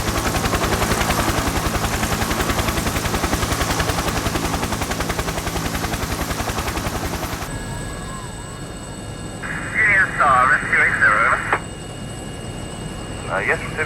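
Loud, steady rotor thumping of a helicopter hovering over rough open sea during a lifeboat rescue, dominating the first half, then dropping to a fainter hum with brief radio-like chatter and burbling tones over it.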